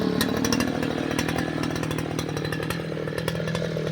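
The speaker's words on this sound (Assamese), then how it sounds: "এতিয়া ধৰক আমি এতিয়া ডেমো এটা দেখাম, সৰুকৈ ঘাঁহ কাটি পেলাই" A handheld grass cutter machine runs at full throttle while cutting grass in a demonstration, its loud engine whine steady and continuous throughout, with rapid rhythmic buzzing pulses and no talk over it.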